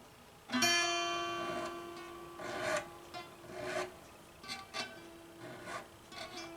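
A metal file scrapes over the beveled ends of guitar frets on a rosewood fretboard of a Portuguese guitar, giving several short rasping strokes with pauses between them, close and fairly quiet, and no one speaking.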